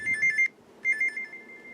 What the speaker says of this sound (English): my alarm is the warning tone of an SFA 1150.